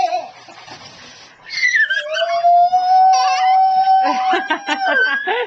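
Dogs howl and whimper up close indoors, a long sliding howl rising then holding steady, mixed with choppy whining yelps and short cries.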